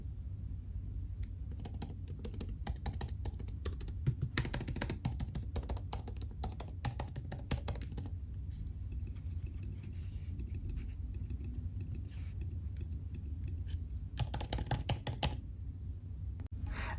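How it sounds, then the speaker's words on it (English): Close-up typing on the keyboard of a 2023 M2 MacBook Air, with quiet, rapid key clicks tapping in an uneven rhythm alone throughout, and a denser flurry near the end. "Let us bring it closer so you can hear the keys themselves."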